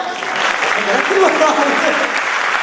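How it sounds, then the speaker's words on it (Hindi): Applause from the crowd at a live stage show, a dense, steady wash of many hands clapping that carries on loudly throughout, with voices mixed faintly into the din. "ढंग से ताली बजाओ।"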